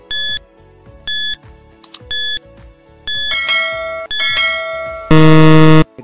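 A synthetic bell notification chime rings out in a sequence of bright, repeated tones, with short clusters of dings and a rising series ending in a loud sustained ring, no voices.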